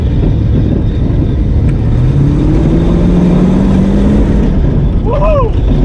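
A Toyota Cressida engine drones loud and steady from inside the moving car, the pitch climbing gradually as it accelerates, with a brief voice in the middle over the constant cabin rumble.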